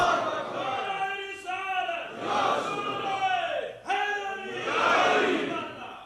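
A conference crowd shouts a religious slogan in unison during a lecture, several loud rising and falling bursts of massed voices in a large hall, roughly three swells over about six seconds.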